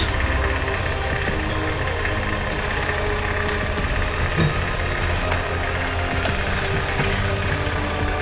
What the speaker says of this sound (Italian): Il rumore che state sentendo è il ventilatore,